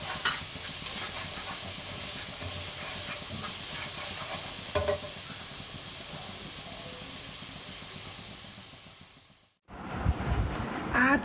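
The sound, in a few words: grated ginger and green chilies sizzling in a pan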